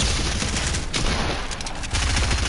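Rapid bursts of gunfire from the video game Fortnite, loud and continuous across the short stretch, with a brief dip midway before the shots resume.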